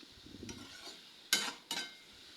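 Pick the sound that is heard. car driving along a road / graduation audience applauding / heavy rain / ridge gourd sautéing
ridge gourd sautéing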